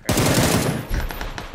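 Automatic gunfire from the video game PUBG, a dense, loud continuous burst of rapid shots lasting over a second, with a short dip and then a second burst close up; no talking.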